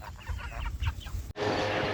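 Meat chickens cluck in short, murmuring bursts for about a second, then the sound cuts abruptly to a steady rushing noise.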